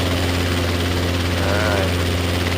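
A Robinson R22 training helicopter lifts off from a parallel taxiway at an airport, its rotor and engine a loud, steady drone with low thudding harmonics throughout, close by, with radio-style talk over it.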